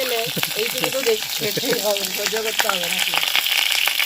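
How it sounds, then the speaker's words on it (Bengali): Cauliflower pieces fry loudly in hot oil with a constant dense sizzle and sharp spattering pops, close up, while someone talks over the cooking. "ফুলকপিটা ফাটে আবার বিশাল ফাটে"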